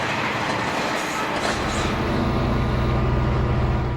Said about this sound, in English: A westbound SP freight ducks under the Santa Fe as it makes its way through Richmond on the Cal P.